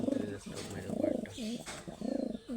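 Domestic pigeons, including a Jalali pigeon, coo close by in repeated throaty, rolling bursts with short pauses between phrases.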